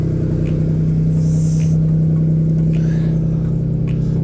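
A Nissan Micra with the HR12 engine idles with no exhaust fitted, a loud, raw, steady mechanical drone with a strong hum, close by and unchanging, with no talk over it.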